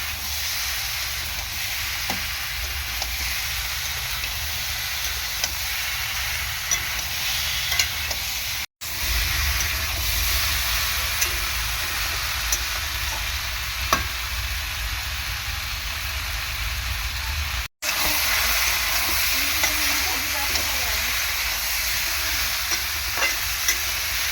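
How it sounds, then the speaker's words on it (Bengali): Vegetarian mixed vegetable curry stir-frying in a pan, a continuous sizzle and hiss with scattered stirring scrapes, steady and close throughout with two brief dropouts. "ভালো করে সবজিটাকে কষিয়ে নেবো।"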